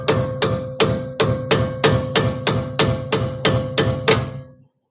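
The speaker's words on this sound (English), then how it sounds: "Might have to hammer this one too" A hammer drives a brake pad into a Nissan Altima brake caliper, about a dozen sharp metallic blows at a steady, even pace, close and loud, each ringing briefly before the next.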